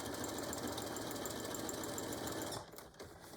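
A sewing machine backstitches a seam on a beach or diaper bag, its needle whirring in a fast steady rhythm close by. The motor then drops to a lower, rougher run for the last second.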